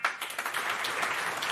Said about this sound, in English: We'll give you the applause.